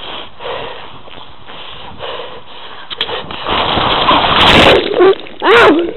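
Water splashes and sloshes on a backyard slip n slide, picked up by a camera held in the wet spray, growing into loud churning bursts near the end, with voices briefly mixed in.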